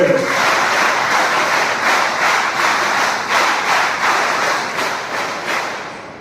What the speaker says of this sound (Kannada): ಜೋರಾದ ಚಪ್ಪಾಳೆಯನ್ನು ತಟ್ಟಬೇಕು ಅಂತ ನಾನು ಕೇಳ್ಕೊತಾ ಇದ್ದೇನೆ